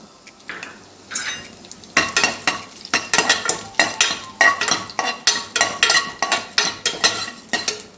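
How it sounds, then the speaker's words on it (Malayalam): Dried red chilies frying in hot oil with mustard seeds for a cucumber curry, a loud steady sizzle broken by regular, rhythmic stirring strokes of a spoon against the pan, close up with no talking. "ഉണക്കമുളക് ഇട്ട് കൊടുക്കാം"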